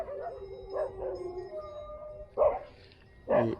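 Several dogs barking and howling outdoors at a riverside fishing spot, short yelps and drawn-out howls in separate bursts, moderately distant and fairly faint, with two louder barks near the end.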